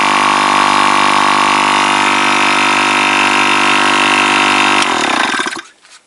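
An Echo RSM 222 ES brushcutter engine runs in after repair, a loud steady two-stroke drone holding around 1500 rpm for about five seconds before cutting off and fading to silence.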